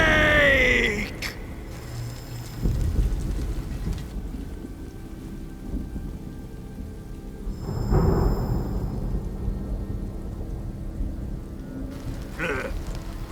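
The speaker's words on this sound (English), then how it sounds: "Who's afraid of a little thunder?" Thunder rumbles and rain falls in the video game Metal Gear Solid Delta: Snake Eater, a steady wash of rain with low rolling thunder swelling near the start, around the middle and again late in the stretch.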